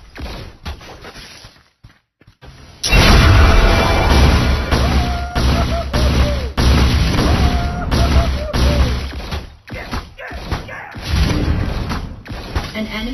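Loud, dense bursts of gunfire, impacts and explosions from a Marvel Super War battle, with Rocket Raccoon fighting, running continuously for about seven seconds after a quieter start, then trailing off into scattered hits.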